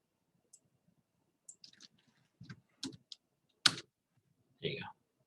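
Sparse keyboard keys and mouse clicks tapping at a computer during a copy-and-paste, arriving in short scattered bursts of a few clicks each, fairly close and quiet with silence between.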